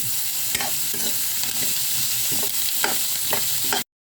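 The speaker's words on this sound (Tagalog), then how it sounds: "At saka halu-haluin." Vegetables sizzle steadily in a frying pan while a utensil stirs them, making repeated scraping strokes at an irregular rhythm, close and clear with no talk.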